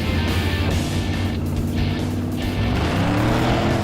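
A Cadillac accelerating hard at full throttle in a car shootout: a loud, continuous engine roar with a rising pitch that sweeps upward over several seconds, near and dominant, with no talk.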